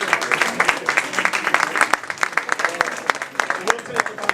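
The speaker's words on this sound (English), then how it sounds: "I do want to give the candidates another round of applause" Applause at a candidate forum: a crowd claps with dense, continuous clapping throughout, fairly close and steady, with some voices mixed in.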